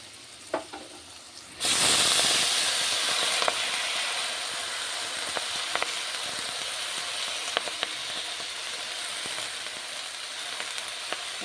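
Potatoes fry with turmeric in a pan. After a brief quiet moment a loud, steady sizzle bursts in close by and continues evenly, with faint scraping clicks of stirring now and then.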